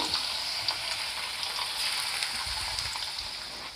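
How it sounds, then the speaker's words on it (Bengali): Paneer pieces frying together in a pan of oil over a medium flame give a steady, close, even sizzle with a fine hiss that holds for the whole stretch, with no talking. "এখন আমি সবকটা পনিরের টুকরো একসাথে দিয়ে দিচ্ছি ভেজে নেওয়ার জন্য"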